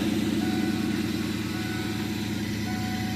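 A 1997 Ford Mustang GT V8 that had sat unused for a while runs steadily at idle, a loud, continuous low rumble heard close up with no talking.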